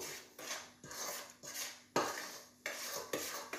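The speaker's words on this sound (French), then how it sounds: "À l'aide d'une cuillère, on va mélanger le tout." Flour being mixed with a spoon in a bowl while making crêpe batter produces repeated scraping strokes and sharp clinks of the spoon against the bowl in an uneven rhythm, close and clear.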